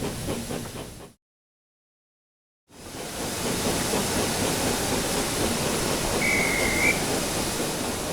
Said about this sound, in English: The guard soon blew his whistle